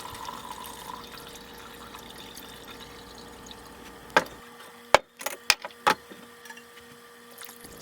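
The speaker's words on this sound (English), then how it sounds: "Hot wort is added to each sample, diluting the gruit pastes and infusing the herbal additives." Hot wort poured into herbal gruit paste samples for medieval-style brewing, a low liquid trickle followed by several sharp knocks and clinks of vessels, close and with no talk.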